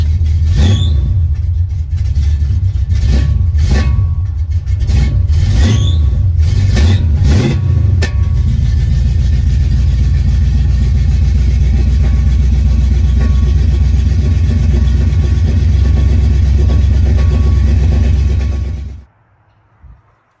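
A 1986 Chevy Caprice Classic Brougham with a swapped 350 engine runs loudly and close, with a few quick revs early on before settling into a steady idle rumble that stops near the end.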